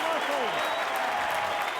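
A rugby league stadium crowd applauds in a dense, steady roar of clapping, loud and continuous, with commentary voices speaking over it.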